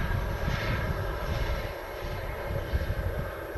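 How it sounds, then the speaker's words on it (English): Steady roar of a World2Fly Airbus A350 on its landing roll at Manchester Airport, thrust reversers spooling down, loud and continuous with broadband rumble throughout. "There goes the reverses retracting there."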